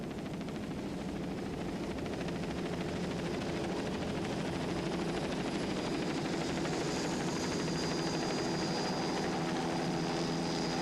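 A helicopter flies over a 1999 offshore powerboat race off Key West, making a constant, loud rotor and engine drone that holds steady throughout with no voices.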